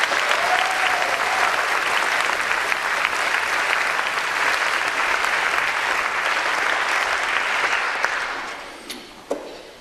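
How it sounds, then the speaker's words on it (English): Loud, dense audience applause at a benefit show honoring sponsors, a steady wash of many hands clapping for about eight seconds before tapering off into a few last claps. "Join me in giving all these folks a round of applause."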